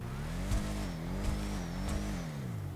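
A throaty muscle car engine in GTA Online revs up and down in short, rising and falling bursts, loud and close.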